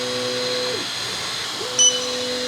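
A Creality Falcon 2 laser engraver starts up to engrave leather, giving a steady whirring hum with a motor tone that drops out and returns, plus a brief high beep-like blip near the end.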